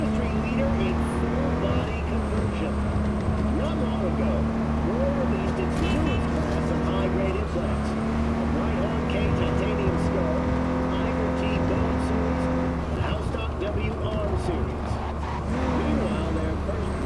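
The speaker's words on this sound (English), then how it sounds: "car traffic, okay." Vehicle traffic in the video game Cyberpunk 2077, a steady engine drone with passing cars running the whole stretch beneath someone talking.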